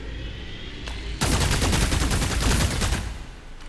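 Rapid gunfire in the video game Psycho Dead erupts after a quieter lead-in and rattles on as a dense, loud burst of shots for about two seconds before easing off.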